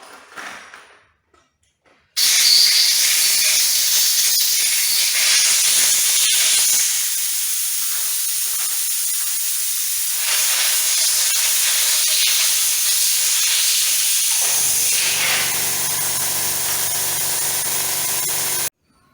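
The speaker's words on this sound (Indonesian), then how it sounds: "Kita semprot lagi." A repaired jet cleaner pressure washer spraying water, a loud sustained hiss that starts abruptly after a brief quiet moment, runs steadily, then shifts to a lower, rougher tone near the end.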